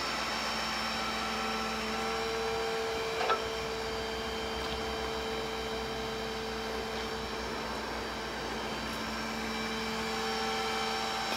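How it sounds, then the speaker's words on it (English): A tow truck winch cable free-spooling off the drum gives a steady mechanical whir with a faint ticking, nearly constant throughout and without speech. "Now we can free spool the cable out."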